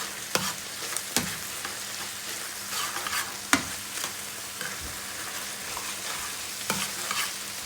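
Minced meat is stirred in a sizzling pan to coat it with basil, with a steady fry hiss underneath and a handful of sharp scrapes and knocks from the utensil, close by and without talk.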